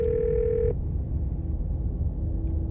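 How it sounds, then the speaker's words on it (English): A telephone dial tone in the horror video game Scarlet Hollow sounds as a steady pure tone that cuts off abruptly, followed by a fainter continuing tone over low background rumble. "You once again hear something drop violently on the other end and then a dial tone."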